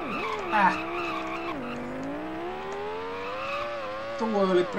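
Race car tires squeal and skid under heavy braking in the Microprose Formula One Grand Prix video game, a long wavering screech that dips and rises over the engine note, loud and continuous.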